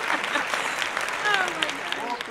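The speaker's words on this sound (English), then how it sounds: "I got claps. I got sound" Applause added as a sound effect on a talk show: a steady wash of clapping from many hands, fairly loud and even across its short span, with a voice faintly audible underneath.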